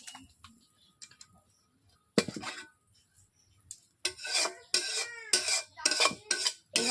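A finished papaya, potato and fish-head curry is scooped out of a metal kadai. A few faint taps lead into a run of loud, close scraping and clinking strokes.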